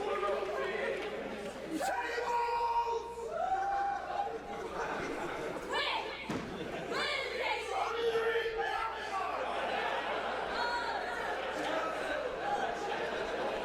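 Wrestling crowd at a Bodyslammers Denmark show, a steady indoor chatter and cheering with occasional shouts, heard under continuous commentary.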